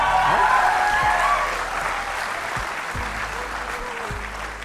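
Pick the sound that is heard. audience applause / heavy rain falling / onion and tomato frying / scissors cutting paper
audience applause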